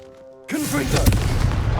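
Confringo fire spell from Hogwarts Legacy detonating as a loud, sudden blast after a quiet start, followed by a sustained crackling roar with a sharp peak near the middle and a brief voice-like swoop.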